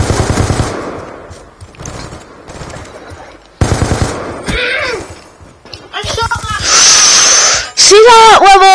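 Call of Duty Black Ops II gunfire cracks out in rapid automatic bursts and single shots, loud and close, with excited voices talking over and between the shots.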